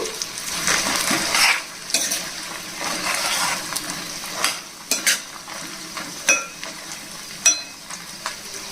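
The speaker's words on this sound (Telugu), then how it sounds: "1 స్పూన్ మినపప్పు అండి. ఇవన్నీ వేగిన తర్వాత జీడిపప్పు వేసుకోవాలండి." Chana dal, urad dal and cashews fry in hot oil while being stirred, making a busy close sizzle broken by repeated sharp spoon scrapes and clinks against the pan.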